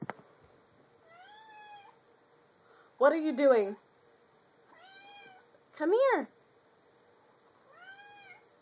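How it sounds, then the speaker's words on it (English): A cat meows several times, two loud drawn-out meows between softer, higher ones, while a person speaks quietly in a calm room. "He keeps meowing and walking away and then meowing and walking away."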